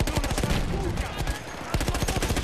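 Rapid gunfire from Battlefield 1, a World War I shooter, with dense bursts of shots rattling continuously over a rumbling battle background, loud and close.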